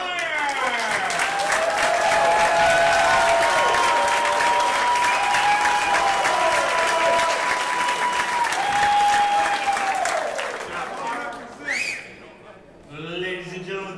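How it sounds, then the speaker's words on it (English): An audience applauds the runner-up at the trophy ceremony of the Apex Wisconsin 10-Ball Open pool tournament. Loud, sustained clapping runs under a held musical tone, then thins out near the end, when a voice speaks briefly. "a round of applause for our runner-up in the event, Mr. Tyler Styer."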